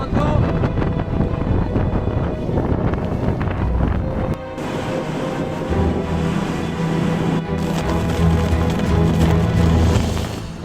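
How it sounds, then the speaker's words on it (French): Violent wind gusting through a storm on the Gaspésie coast of Québec, a loud, steady roar buffeting the microphone with a brief lull midway, no talk over it. "j'ai rarement vu un vent aussi violent"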